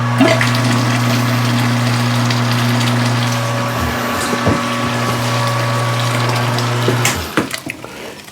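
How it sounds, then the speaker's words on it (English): Hot water gushes and splashes into a mash of home-brewed nut brown ale, a steady pouring rush over a low pump-like hum that tapers off near the end. "let's go ahead and put a little bit more hot water in there"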